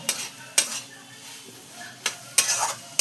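Pav bhaji masala stirred in a pan, a handful of sharp scraping knocks of a spoon against metal spaced apart over a faint sizzle, close by.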